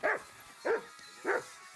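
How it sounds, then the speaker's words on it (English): A dog barks three times in Kingdom Come Deliverance 2, sharp evenly spaced woofs about half a second apart, fairly close over a faint ambient bed. "You shut up, dog."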